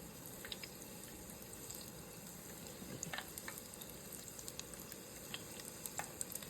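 Apple fritters deep-frying in hot oil give a steady bubbling sizzle with scattered sharp pops and crackles throughout, close and continuous, with no one talking.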